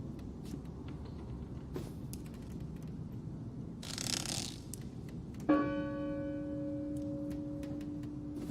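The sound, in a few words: church bell ringing in Draugen video game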